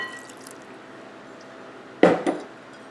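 A short splash of a quarter cup of water poured into a bowl of pumpkin bar batter, a brief burst with a quick second spill after a stretch of quiet room tone.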